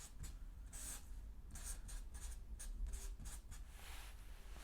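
Pen scratching out a gradient calculation on paper, a quiet series of short dry strokes and taps coming in uneven bursts, close and faint, with no talking.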